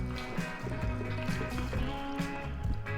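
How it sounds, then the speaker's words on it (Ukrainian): Gasoline is poured into a bottle, giving a continuous close gurgling fill whose pitch rises steadily as the container fills. It is a short, steady, moderately loud sound with no talking. "переливаємо бензин у пляшку."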